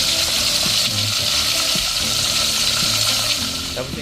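Fish sizzles and crackles in hot oil in a pan, a dense, continuous spatter heard up close with faint clinks and stirring sounds underneath.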